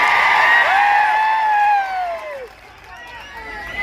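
A political rally crowd in Maharashtra cheers and whoops with rising shouts and excited voices, loud and close, fading somewhat after a couple of seconds.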